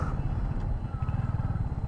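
A Royal Enfield Hunter 350 motorcycle being ridden, its engine giving a low, even thump and rumble that pulses slightly, heard close and continuous without talk.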